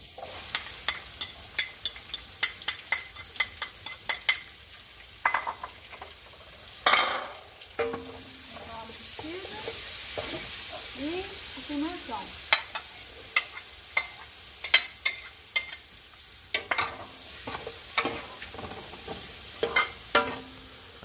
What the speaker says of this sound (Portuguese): Alho deu fritando, a gente vai colocar a cebola.